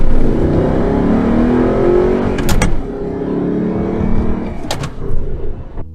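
An Audi R8 V8 with a gated manual gearbox accelerates hard, the engine note climbing in pitch, then breaking at two distinct gear shifts before revving up again, loud and close.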